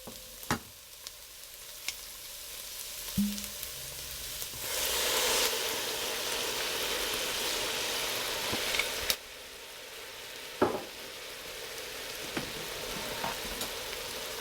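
Wine splashes into a pan of vegetables for beef bourguignon and a loud, steady sizzle rises and holds for several seconds, then drops back to a softer fry with occasional clinks.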